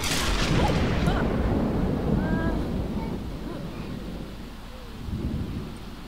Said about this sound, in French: Elle s'est pris l'éclair.